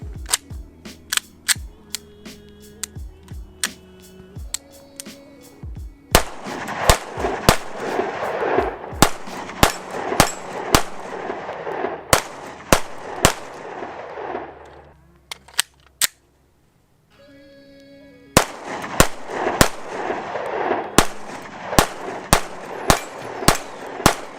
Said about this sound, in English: let's just shoot a little bit